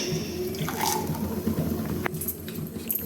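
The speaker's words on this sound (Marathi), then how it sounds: "आता त्यात कोल्ड कॉफी घालता येईल." Cold coffee pours into a glass, a close, gurgling liquid splash with a few drips and small knocks over a few seconds.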